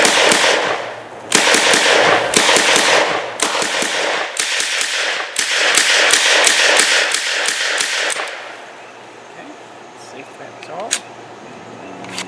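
A Czech SA-24 semi-automatic carbine fired at an outdoor range, a loud, rapid string of sharp cracks in quick succession, then a quieter stretch with a few clicks and a voice talking.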